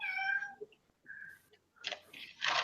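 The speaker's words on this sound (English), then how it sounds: "Talking cat." A cat meows several times in a row, close and loud. Drawn-out harmonic cries are followed by rougher, noisier calls, in a room where a statistics lesson is under way.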